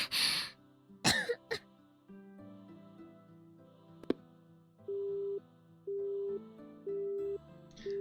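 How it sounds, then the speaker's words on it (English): A girl's coughing fit and throat clearing from the visual novel 9-nine-, heard as a few sharp, close bursts near the start, followed by a soft ringing phone-like electronic tone that repeats in steady pulses. "Senpai hangs up in the middle of her coughing fit."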